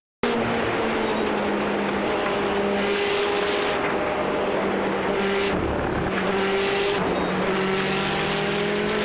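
Onboard engine of a sports car racing at Watkins Glen, a loud continuous droning roar with steady pitch, dipping briefly as the driver lifts off the throttle and brakes, then pulling again, with no talk.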